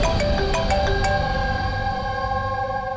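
A phone ringtone plays steadily throughout, a repeating electronic melody over a constant background hum, with no one talking; it is an incoming call in a crime-drama police scene.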